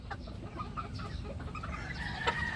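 A young hen, a stag line's pullet, clucks in short soft bursts in a farmyard, with faint rustling and background noise around her.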